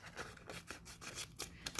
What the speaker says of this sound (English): So what I'll do is I'll cut away this backer here.